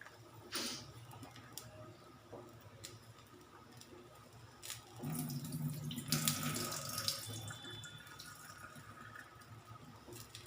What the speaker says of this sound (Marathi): वरचं पाणी द्यायचं वरतून, काही कचरा वगैरे असला तर निघून जाते भगरीतून